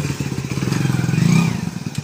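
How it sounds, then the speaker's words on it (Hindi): A motorcycle being wheeled or ridden out, its engine running with a low chugging throb and some clattering thumps, close by, swelling briefly before settling. "बाइक तो बाहर निकाल दिया"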